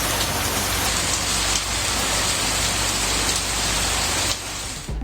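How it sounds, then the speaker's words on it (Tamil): Steady morning rain pouring over the Panangudi, Valliyur and Radhapuram area of Tirunelveli district, a dense, even hiss of drops on surfaces that holds loud and constant for the whole stretch. "நெல்லை மாவட்டம் பனங்குடி, வள்ளியூர், ராதாபுரம் சுற்றுவட்டார பகுதிகளில் காலை முதல் மழை பெய்ததால் குளிர்ச்சியான சூழல் நிலவியது"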